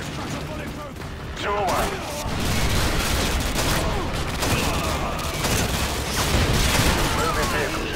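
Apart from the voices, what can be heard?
Javelin missile fired and exploding, from a video game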